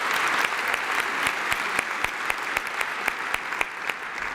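An audience at a speaking event applauds with steady, dense clapping throughout, bright and sustained, with distinct individual claps standing out near the front.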